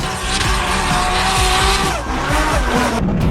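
A loud Toyota 2J engine roars and revs continuously, with rising and falling pitch sweeps and a rough, raspy exhaust note throughout.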